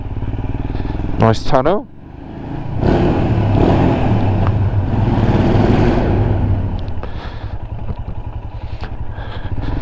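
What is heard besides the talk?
Royal Enfield Himalayan motorcycle riding down country lanes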